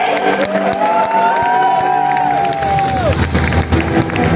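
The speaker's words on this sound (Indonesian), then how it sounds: "Yang setuju boleh tepuk tangannya untuk diri sendiri." A large audience at a motivational learning event cheers and applauds loudly and continuously, with crowd shouts and a rising and falling whoop-like tone over dense noise.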